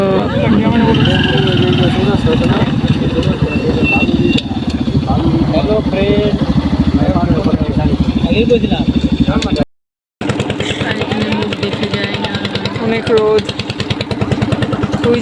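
A vehicle engine, likely a motorcycle, runs close by with a steady rumbling drone that continues almost without a break, under a busy outdoor mix of voices and clatter.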